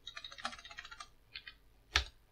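Keys clatter on a computer keyboard in quick, close bursts while Django code is entered, ending with one firmer keystroke, with no voice.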